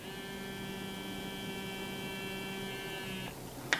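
A steady, high electric whine of a small Foreo ISSA 3 electric toothbrush motor runs for about three seconds, then cuts off, followed by a faint click.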